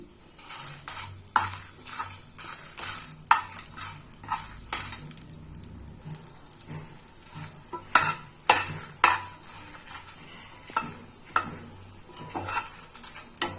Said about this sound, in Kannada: ಈ ಮೆಣಸಿನ್ಕಾಯಿ ಜೀರಿಗೆ ಕಾಳು ಮೆಣಸು ಇವೆಲ್ಲ ಏನಿತ್ತು ಇವನ್ನ ಹಾಕ್ಕೊಳತ್ತೀನಿ ಮೆತ್ತೆ ಇದೆಲ್ಲ ಸ್ವಲ್ಪ ಫ್ರೈ ಮಾಡ್ಕೊಳ್ಳೋನು